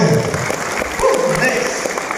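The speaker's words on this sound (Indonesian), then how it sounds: "Tepuk tangan buat semuanya." Crowd of Indonesian farmers at a motivational event in Bogor claps together, a dense steady applause with scattered voices.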